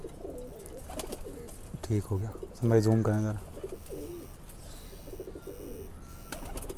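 Low, throaty cooing from pigeons, a few rounded repeated coos close by, with someone talking over and around them.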